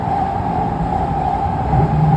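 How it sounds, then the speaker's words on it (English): A continuous low rumble of a train going by near Huntington Drive and Second Avenue in Arcadia, steady and fairly loud with a faint tonal hum on top. "That's a train passing by."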